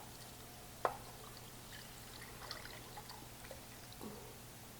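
Beef broth is poured into a slow cooker for steak and noodle soup, a faint liquid trickle opening with one brief splash and then settling into quiet dribbling, heard alone.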